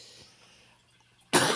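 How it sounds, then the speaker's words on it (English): A single loud, close cough bursts out abruptly after a stretch of quiet room tone. "Excuse me, sorry, I had to cough."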